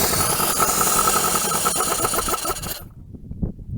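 A 1980 Dodge Colt Challenger (Mitsubishi Challenger) engine roars loudly and steadily, then cuts off abruptly, leaving faint rattles.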